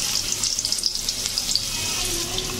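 Sliced onions frying in oil in a pan for a Bengali shrimp and kochu loti dish: a steady, crackling sizzle with fine popping, close up and continuous, with no voices.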